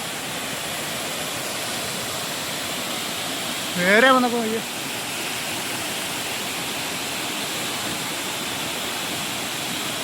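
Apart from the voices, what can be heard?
Manpilavu waterfall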